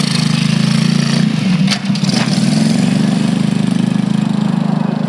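A Honda CT90 motorcycle's small engine runs loud and close with a steady pulsing throb, rising briefly in a throttle blip before settling back to a strong even drone.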